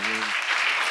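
Church congregation clapping together during a Korean sermon seminar, a brief burst of dense applause after a short sung or spoken tone fades out.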